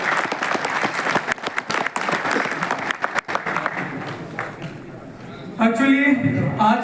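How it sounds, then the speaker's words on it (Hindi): A crowd at a meeting of members gives loud, sustained applause for several seconds that gradually thins out, after which a voice speaks over faint music. "इसके लिए एक बार आप लोगों के लिए जोरदार तालियां होनी चाहिए।"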